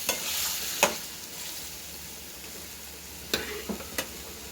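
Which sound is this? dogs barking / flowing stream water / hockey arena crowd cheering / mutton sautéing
mutton sautéing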